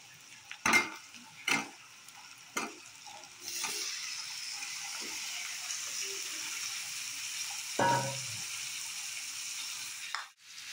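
Marinated chicken meat dropped into a pan of ginger spice paste: a few close clattering knocks of the utensil, then a soft steady sizzle with occasional stirring scrapes, moderately quiet, no voices.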